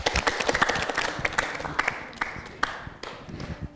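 Studio audience applause on a Kyrgyz TV talk show, scattered, uneven hand claps from a modest crowd that build briefly and then thin out, with no speech over them.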